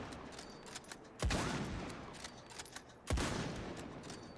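Game gunfire in Indiana Jones and the Great Circle: two sharp, loud bursts of shots about two seconds apart, each followed by a decaying echo over a busy background.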